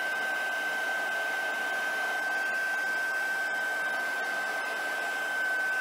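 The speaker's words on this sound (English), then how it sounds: "heat gun right here, and you want to make sure it's nice and hot before you start doing this" A heat gun blows hot air for embossing during a craft stamping project, a steady, close whir with a constant high whine running the whole time, the sound holding steady throughout.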